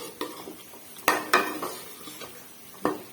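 Tomatoes tipped into a kadhai of chicken biryani masala, heard as a few sharp metallic clanks and scrapes of a spoon against the pan, with a faint sizzle between them and no talking.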